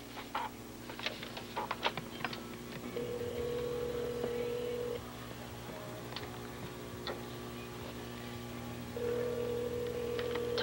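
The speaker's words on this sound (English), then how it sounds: "Let's see if we can get him on the phone here." A telephone call being placed: faint clicks and ticks of dialing, then two long ringback tones on the line a few seconds apart, quiet over a low steady background hum.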